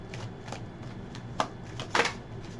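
Tarot cards are shuffled close by, giving soft irregular riffles and flicks with a couple of sharper snaps near the end, quiet against a low background and with no talking.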